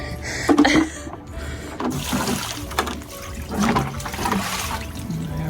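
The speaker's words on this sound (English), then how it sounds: "I'm gonna pour it out over here, I think." Dirty water is poured out of a garden bird fountain onto the ground outdoors, a steady splashing, gushing pour lasting several seconds, close and fairly loud, with no talking.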